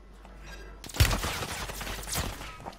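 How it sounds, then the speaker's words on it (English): Gunfire in an online shooter game: a sharp nearby shot, then scattered bursts of distant fire trailing off over a couple of seconds. "You hear the shots left side?"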